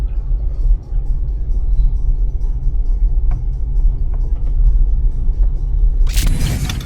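Cars drive near a parking lot in a continuous low road rumble, with a sharp rushing burst near the end as one passes close.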